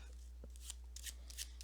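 A deck of tarot reading cards is shuffled by hand in several quick, close riffling bursts over a steady low hum, with no talking.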